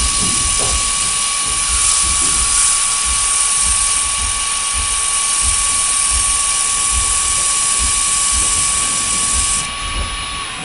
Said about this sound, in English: with the lathe running, you can sand a little bit of this